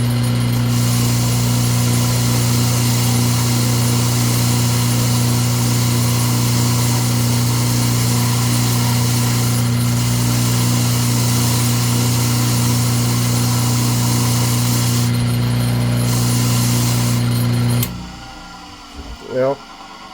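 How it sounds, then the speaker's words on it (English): A motor-driven wire wheel scrubs surface rust off a steel piece. A loud, steady motor drone with a harsh brushing hiss carries on for most of the stretch, then cuts off abruptly near the end, leaving quiet handling noises. "take this over to the wire wheel and clean some of this surface rust off of that"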